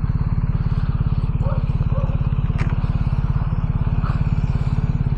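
A motorcycle engine idles steadily nearby, a continuous low rhythmic chug throughout with faint clatter and a few brief background sounds.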